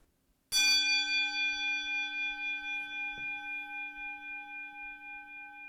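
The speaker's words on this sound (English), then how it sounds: "Tell us about the gong that you use at the top of the class to help the kids focus." A single gong strike opens a music class, a sharp metallic hit followed by a long, clear ringing tone that slowly pulses and fades over several seconds in a quiet room.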